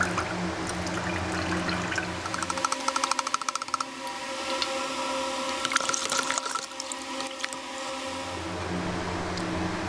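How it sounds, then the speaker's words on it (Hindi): Lemon juice pours and trickles into sugar water for nimbu pani, a close liquid splashing and dribbling with brief bursts of pouring through the middle, under a low kitchen background. "नींबू का पानी भूनकर डालेंगे।"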